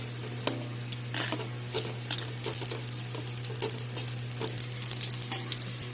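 Bay leaf, cardamom, cinnamon and cloves crackle in hot oil with sharp spitting pops and a steady sizzle over a low constant hum, close by, with nobody speaking.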